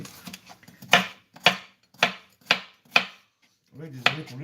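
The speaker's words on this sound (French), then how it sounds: "Allons-y pour le découpage des carottes." A kitchen knife chops carrots on a board with about six sharp, separate knocks spaced roughly half a second apart, close and clear over faint background murmur.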